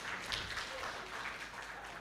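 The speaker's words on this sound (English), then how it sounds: "let's applaud them for giving us that commitment" An audience at a menopause policy conference applauds panelists on stage, a faint, steady patter of clapping heard from a distance.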